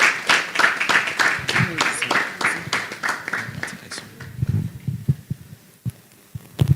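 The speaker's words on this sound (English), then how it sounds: "That clap was not enough." Audience at a young lawyers' event claps in a steady series of sharp, distinct hand claps, fairly close and rhythmic, thinning toward the end, with voices talking alongside.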